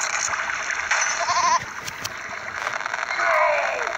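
A goat bleats in the video game There Is No Game, its cries mixed with watery splashing and a steady rushing stream, with a brighter splash swelling near the end.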